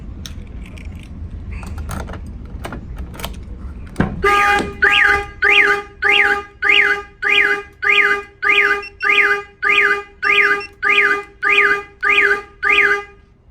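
A car alarm triggered by a door opening blares in a fast repeating wail, each cycle rising and falling in loud, regular bursts after a few sharp clicks and knocks.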